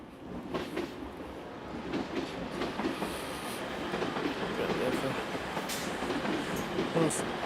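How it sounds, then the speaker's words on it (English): A TransPennine Express train rolls through Doncaster station with a steady rumble and faint clickety-clack at a moderate distance, while people talk over it. "So we've got Transpennine coming into shot in a sec."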